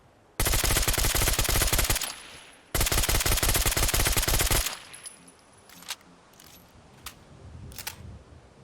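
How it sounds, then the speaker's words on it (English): A suppressed rapid-fire machine gun from the Fallout 4 Select Rapid MG mod fires two long, loud, dense bursts separated by a short pause. Scattered faint mechanical clicks and taps follow, with no speech. "I figured we might as well give you a listen to the suppressor sound effect as well."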